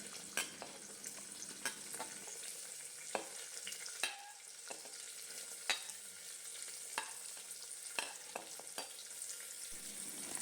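Small onions sautéing in a pan for dal fry, a quiet background sizzle broken by frequent sharp clicks and scrapes of stirring.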